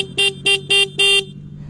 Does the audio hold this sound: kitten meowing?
no